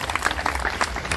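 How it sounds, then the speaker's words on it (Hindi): An audience claps for a young schoolgirl during a Jammu and Kashmir news broadcast, a fairly faint, uneven patter of hands with soft crowd noise behind it. "जो तालियां लगानी चाहिए इस बच्ची के लिए"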